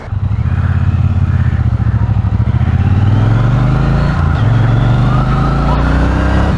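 A motorcycle in sport mode roars loudly and close, its engine droning steadily with pitch climbing and dipping through revs as it flicks into a corner, with no voices.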